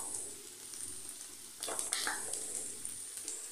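Chopped green chilies and finely chopped capsicum fry in a hot pan, a close, bright sizzle that flares into louder crackling partway through, then settles back to a steady hiss without any speech.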